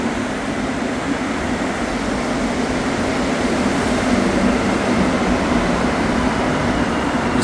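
An out-of-service Montreal STM Green Line metro train passes with a steady, continuous roar and rumble that holds at an even loudness throughout, with no voices.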